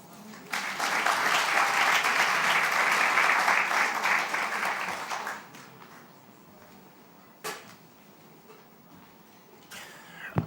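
An audience applauds at the launch of a new university building for Early Childhood Care Education, honouring the Dean; loud, dense clapping lasts about five seconds, then fades into quiet room noise with a couple of sharp knocks.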